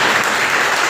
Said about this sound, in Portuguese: Eu queria que você desse um aplauso tão forte para Ele.